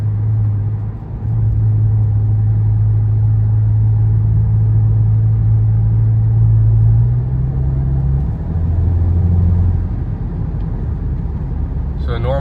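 Volkswagen Mk7 GLI with a Baun Performance resonated catback exhaust during normal driving, heard as a steady low engine and exhaust hum with gentle shifts in pitch. Someone talks over it much of the time.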